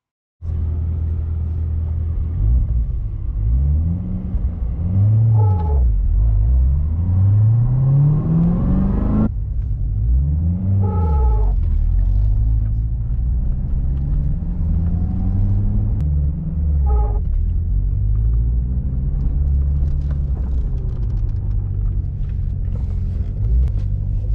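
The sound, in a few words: twin-disc clutch rubbing noise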